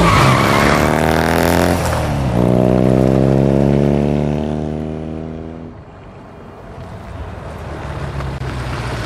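In-game motorcycle from Uncharted revving hard and pulling away, a loud tonal engine whine that rises, holds steady, then fades out as it recedes, with lingering ambient noise after.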